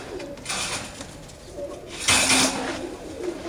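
Pigeons in a loft, an ash red bird among them, cooing in soft repeated calls with a louder burst near the end, close by amid rustling.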